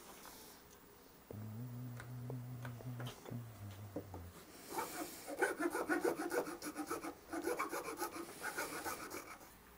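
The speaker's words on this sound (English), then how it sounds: "I want to take my Iwasaki and get as much of this gone as possible" Iwasaki file rasping wood on a clamped Les Paul guitar neck, a few close scrapes at first, then a run of quick repeated rough strokes, with a brief low tonal hum early on.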